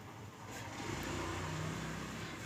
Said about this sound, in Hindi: यहाँ रोड पे बहुत सारी आवाज़ें आती हैं, गाड़ी जाती रहती हैं